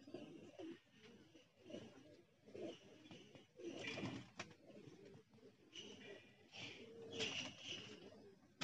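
Pigeons cooing and fluttering close by during a flying session, soft layered coos and wing noise throughout, with faint voices in the background.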